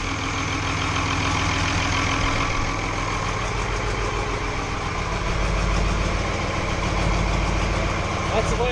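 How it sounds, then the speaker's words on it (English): The rebuilt engine of an 8210 tractor idles after an in-frame rebuild. It gives a steady, close, even rumble with a continuous mechanical hum and no revving across the whole stretch. "I have the idle sorted now and it's completely lit up and it starts up perfect now"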